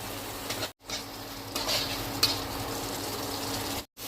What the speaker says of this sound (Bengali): এবার যে গুঁড়ো মশলাটা তোমাদের দেখিয়েছিলাম সেই গুঁড়ো মশলাটা আমি জলে গুলে দিয়ে দিলাম।